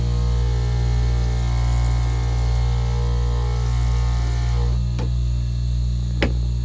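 Dental lab polishing lathe spinning a buff wheel, a loud steady motor hum with even tonal drone, joined by a couple of short scraping contacts near the end.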